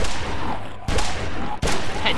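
Gunfire in The Walking Dead video game: two sharp, loud shots about a second apart, each a broadband burst over a dense, steady game-noise bed.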